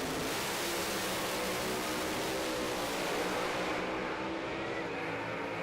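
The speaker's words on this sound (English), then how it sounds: "you'll hear the RPMs come up on these cars" Pro Alcohol drag racing car with engine revving hard, a dense, loud, unbroken roar that holds for several seconds, dropping slightly in brightness toward the end, with no talking.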